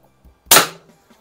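A shot fired at a 12 gauge shell target from a BB-firing gun, heard as one sharp, loud crack with a short decaying tail, preceded by faint low handling sounds.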